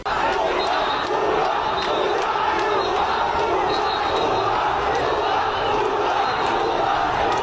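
A large crowd in a protest march for the Dhaka University quota movement, a loud, continuous roar of massed voices chanting and shouting, steady and dense for the whole stretch.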